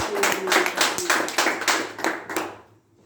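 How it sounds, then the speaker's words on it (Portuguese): Church congregation clapping to welcome a pastor, a brisk burst of close hand claps that tapers and fades out within about three seconds. "Vamos receber o pastor Carlos com as palmas bem alegres para Jesus"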